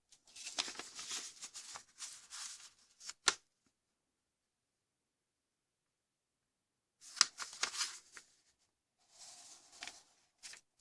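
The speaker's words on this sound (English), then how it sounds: "I'm going to fold it up to this edge here, producing a valley fold across the horizontal center" Square paper is folded into an origami Batman, with close, crisp crinkles and creasing rustles in two short bursts, separated by several seconds of silence and followed by fainter handling.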